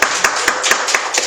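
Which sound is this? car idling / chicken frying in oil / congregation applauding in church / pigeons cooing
congregation applauding in church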